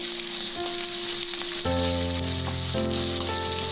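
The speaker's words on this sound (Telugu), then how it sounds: "కరివేపాకు వేసుకుని వేయించుకోండి." Curry leaves fry in hot oil for a dondakaya deep fry, making a soft, steady sizzle beneath prominent tonal background music.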